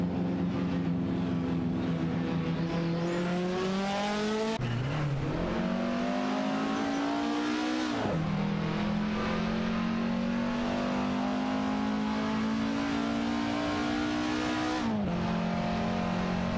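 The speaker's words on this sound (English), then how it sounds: "The Skoda 130Rs and BMW 2002 are truly putting on a show on the track." Skoda 130R and BMW 2002 race cars on a circuit, engines rising and falling in pitch through gear changes, with sharp downshifts near five, eight and fifteen seconds, loud and close throughout with no talk.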